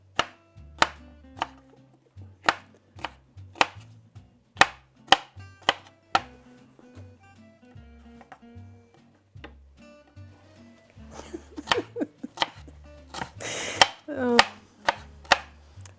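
A knife chops a bell pepper on a cutting board in a home kitchen, producing a steady series of crisp, close taps in an even rhythm, with a denser burst of quick cuts near the end and no talking.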